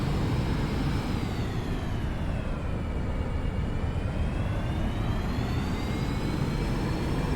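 Boeing 747 engines spooling up for takeoff in the X-Plane 11 flight simulator, a steady loud broadband jet roar with a faint high whine that dips and rises, continuous with no speech.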